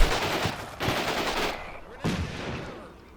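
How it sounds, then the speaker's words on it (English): Bursts of machine gun fire from the war game Combat Mission, several loud volleys with short gaps, sharp onsets fading into rattling decay, close and dominant. "The enemy is shooting at our troops, and they go down pretty fast."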